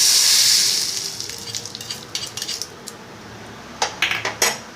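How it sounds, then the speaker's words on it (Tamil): Mustard seeds tempering in hot sesame oil in a pan for mango pickle, a loud initial sizzle fading into scattered sharp pops and crackles that come in small bursts, with no talking. "கடுகு மட்டும் தாளிச்சா போதும்."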